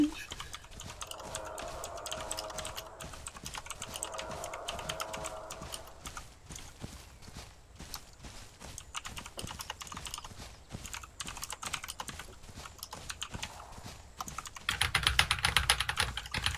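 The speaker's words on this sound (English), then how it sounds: "I got a new keyboard for Christmas, and I wanted a clacky keyboard because I like the way they sound" Rapid clacky keystrokes from a new mechanical keyboard patter steadily through the whole stretch, close and crisp, with game sounds and a voice murmuring underneath and a louder burst of noise near the end.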